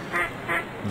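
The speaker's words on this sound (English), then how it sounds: "Duck." Three short nasal duck quacks from The Impossible Quiz video game, evenly spaced and fairly faint, with nothing else heard.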